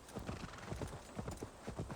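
Horse hooves clip-clopping at a steady trot in Assassin's Creed Valhalla, an even rhythmic beat of soft thuds, fairly quiet, with no talk over it.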